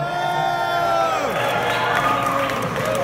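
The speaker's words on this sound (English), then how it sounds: "Let's give him a round of applause" Concert crowd at the Belasco Theater in Los Angeles cheering and whooping with applause mixed in, a dense loud roar throughout with tonal music lines underneath.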